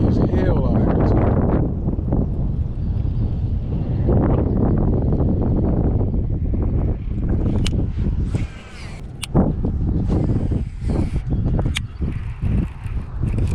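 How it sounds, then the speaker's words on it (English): Gusty wind on a fishing boat on the water off Harsens Island, Michigan, heavy low buffeting that swells and eases, with sharp knocks and thumps on the boat later on. "It's windy as hell out here too."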